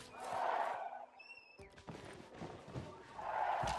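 Large outdoor crowd at a packed political rally in Surrey, a steady broad murmur of many voices swelling at the start and end, with a brief whistle-like tone and scattered thumps in between.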